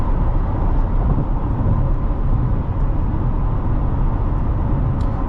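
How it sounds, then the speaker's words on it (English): Steady broadband wind and road roar fills the cabin of a 2020 Chevrolet Corvette C8 3LT Z51 while driving, a constant loud rush with no talk. "But the wind noise is pretty significant in this Corvette."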